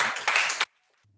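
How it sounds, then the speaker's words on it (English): Short burst of audience clapping at a seminar, loud and close for about half a second before stopping abruptly into near silence. "Let's give Doug a round of applause."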